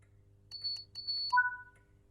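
Two short electronic acknowledgement tones sent to the guard in Train Sim World 5, on a West Coast Main Line train, preceded by a pair of thin high beeps and followed by a lower sustained tone, clear over quiet cab hum.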